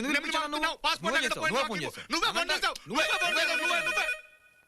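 A telephone rings with a loud, melodic ringtone in a scene from the Telugu film Athade Oka Sainyam, playing in repeated bursts before cutting off abruptly.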